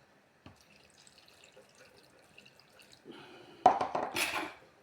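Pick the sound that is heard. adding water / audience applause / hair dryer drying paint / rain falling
adding water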